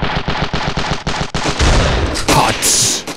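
Shotgun fire in the Ravenfield video game: a rapid string of sharp, punchy blasts in steady rhythm, followed by heavier booming shots and a crackling explosion, loud and close.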